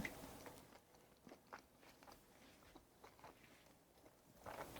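Someone chewing a bite of homemade pepper steak with beef and tomatoes, soft irregular crunches and bites close to the mic, fairly quiet.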